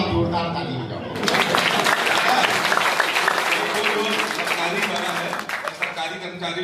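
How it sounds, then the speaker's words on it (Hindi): Audience at a Hindi poetry recital (kavi sammelan) bursts into loud, sustained applause after a brief stretch of speech, the dense clapping continuing steadily to the end. "आप जोरदार ताली हो जाओ"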